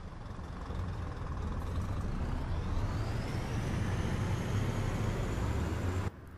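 A Scania Citywide GN14 articulated bus in the OMSI 2 driving game, heard from outside, gives a steady loud engine roar that climbs in pitch as it pulls away, then cuts off abruptly.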